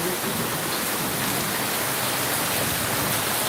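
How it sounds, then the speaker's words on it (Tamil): Heavy rain pours down in a village downpour, a dense, even hiss of water that stays loud and unbroken throughout. "திரும்ப பத்து நிமிஷம் கழிச்சு மழை பெய்யுது"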